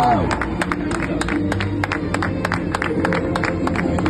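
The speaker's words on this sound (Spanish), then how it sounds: "Fuerte aplauso para Javier Vergara." Audience applause in a sports gala hall for an athlete from Ibiza, Balearic Islands, a steady wash of clapping and crowd noise throughout with a host's voice running over it.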